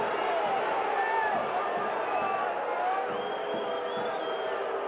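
Soccer stadium crowd of over 11,500 at a Louisville City FC versus Tampa Bay Rowdies match reacting to a foul, a steady roar of jeers and whistles filling the whole stretch without pause.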